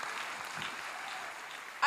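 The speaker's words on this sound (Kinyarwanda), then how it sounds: "Komera Imana amashyi menshi." A church congregation claps during a pastor's sermon, a soft, diffuse patter of many hands heard faintly and steadily, with a brief louder burst at the very end.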